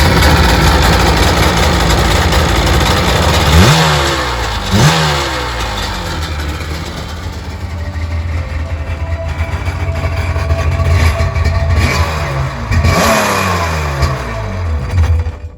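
A 2003 Sea-Doo GTI LE RFI two-stroke jet ski engine runs loud and close, idling with a buzzing drone and revving up sharply several times before settling back.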